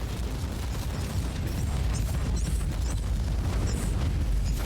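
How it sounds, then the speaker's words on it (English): Magic grenade blasts in the game Warhammer 40k Inquisitor: Martyr, a dense, sustained rumbling roar of explosions with crackling bursts, steady and loud throughout. "I do not like their stupid magic grenades"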